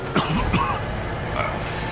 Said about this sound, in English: Every time I cough, it feels like I'm being stabbed in the chest.